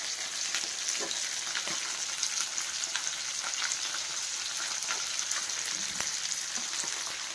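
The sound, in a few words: frying cloves, cinnamon, cardamom and fennel in pan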